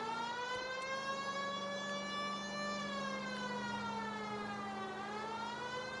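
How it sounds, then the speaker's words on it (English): A police car siren wails steadily in a long rising and falling tone, loud and close, with no talk over it. "People might move out of the way quicker if you use the siren."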